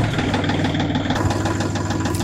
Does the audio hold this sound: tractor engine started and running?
yes